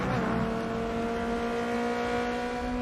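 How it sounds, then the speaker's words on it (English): Race car engine from Forza Motorsport, a steady loud droning tone held at a near-constant pitch throughout, with no tire squeal evident. "Hear Forza Motorsport like never before. Every tire squeal, every engine, lap after lap."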